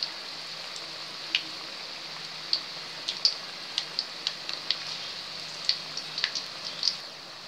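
Onion bonda deep frying in hot oil gives a steady soft sizzle with scattered sharp crackles and pops, fairly close and with no talk.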